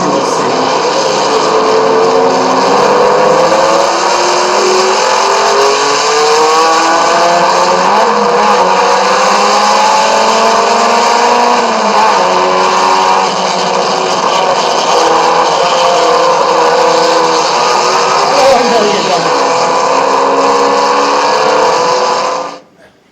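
A race car engine drones loud and close at sustained high revs, its pitch climbing and dropping through gear changes with a noticeable dip during a downshift late on.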